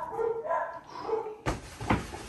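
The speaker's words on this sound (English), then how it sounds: "as the dogs make all the noise in the world" Dogs bark and yip at some distance behind a person speaking, with a couple of sharper, louder barks near the end over a noisy background.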